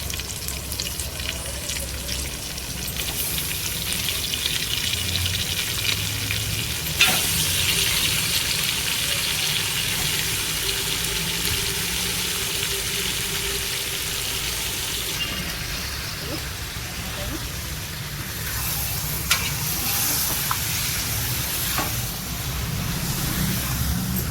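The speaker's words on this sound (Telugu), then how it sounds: "ఇప్పుడు ఆయిల్లో మటన్ వేయించుకోవాలి" Mutton pieces frying in hot oil with ginger-garlic paste, a steady close sizzle and crackle throughout with occasional scrapes and knocks of stirring, loud and continuous.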